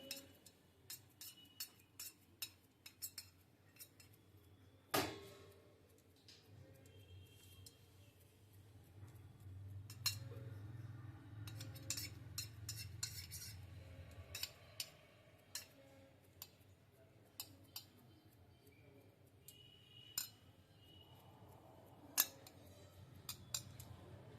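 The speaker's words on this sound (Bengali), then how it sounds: "একটা চামচ নিয়েছি চামচে করে এভাবে আমি ভালো করে বোস করে দিচ্ছি" A spoon presses fresh chhana down firmly into a tiffin box for steamed sandesh, giving faint, scattered taps and small clinks with quiet pauses between them.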